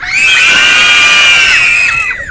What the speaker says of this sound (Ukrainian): А ну крикніть так голосно, як вмієте.